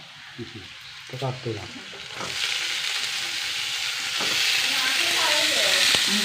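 Sliced banana blossom goes into a hot pan with turmeric and salt and starts frying, a loud broad sizzle that rises and holds, with a few brief clanks and someone talking before it.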